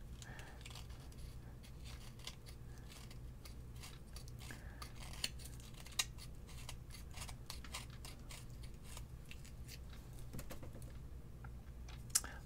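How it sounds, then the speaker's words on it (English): Plaster being cut on the base of a miniature wargaming figure, with a steady run of small scraping and clicking cuts and a few sharper snaps, close up and fairly quiet over a low background hum. "let's cut the plaster"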